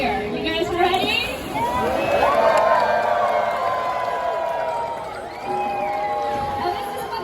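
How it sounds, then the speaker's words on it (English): A stadium crowd at the SeaWorld San Diego orca show cheers and whoops loudly and continuously, a broad roar of many voices filling the arena. "he likes it when the whole stadium gives him a loud cheer"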